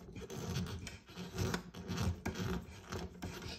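Small scraping, rubbing and ratcheting sounds from someone trying to screw an exhaust pipe onto a KITT model car from Knight Rider, quiet, close and irregular, without speech.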